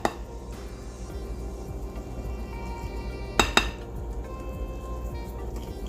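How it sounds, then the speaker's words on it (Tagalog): Muffin batter of banana and almond gets stirred in a bowl, with soft repeated scraping and clinking of a utensil against the bowl. There is a sharp, louder clink partway through, and no voices. "Haluin lang po natin ito hanggang mawala yung puti-puti ng arena."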